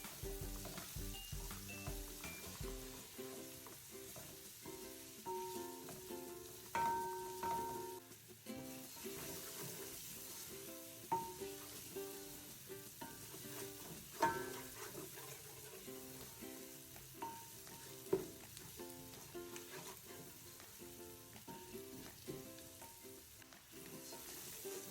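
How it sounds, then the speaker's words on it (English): Beef pilau with cumin being stirred in a pot, a steady sizzle under repeated scrapes and clinks of the spoon against the pot, moderately close, with no voices. "We'll now give this a good stir to avoid sticking."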